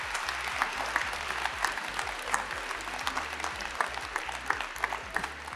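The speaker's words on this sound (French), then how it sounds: "Ovation pour Cédric Lavaux" Audience applause for Cédric Lavaux at a professional conference, a dense, even crowd clapping that sustains throughout at moderate distance, without speech.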